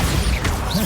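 A Bombarda blasting spell goes off in Hogwarts Legacy amid a hectic duel, a brief crashing burst with a whooshing sweep over a dense, loud game soundscape.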